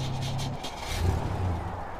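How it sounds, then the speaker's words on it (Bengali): An aging car's engine gives a low, steady mechanical drone at night, swelling briefly in a rough surge midway through, with no voices over it. "ভ্রমের ভাবটা কাটল গাড়িটার এক যান্ত্রিক শব্দে।"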